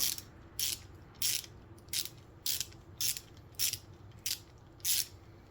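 A 1/4 inch ratchet turns an 11 mm bolt, giving nine crisp, evenly spaced clicking bursts close by against quiet background.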